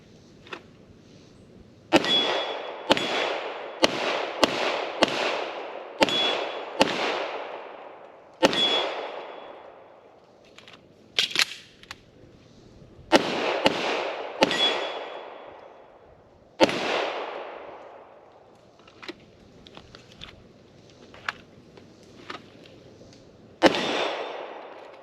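Canik TP9-SFX pistol firing Blazer ammunition at steel targets outdoors, a run of sharp shots in quick strings with pauses between, some followed by a ringing clang of hit steel, fairly loud with no talking.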